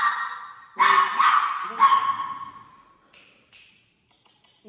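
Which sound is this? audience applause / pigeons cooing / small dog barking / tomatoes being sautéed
small dog barking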